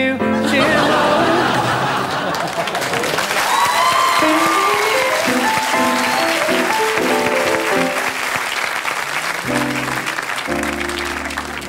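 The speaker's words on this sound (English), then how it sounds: "receiving a round of applause for coming back after a piss" A TV comedy panel show's studio audience applauds and cheers steadily throughout, a dense continuous roar with some chuckles, while a musical sting plays over it.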